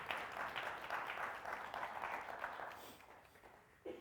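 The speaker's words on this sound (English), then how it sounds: "Give her a clap." A church congregation in Guernsey applauds after a public Bible reading during a Sunday service. The steady, moderately loud clapping fades away toward the end.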